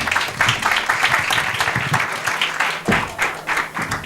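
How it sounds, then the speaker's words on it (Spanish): At a women-in-technology conference, an audience claps in uneven bursts as a speaker is welcomed, the applause moderately loud and fairly close. "Gisela Montalvo, por favor, un fuerte aplauso."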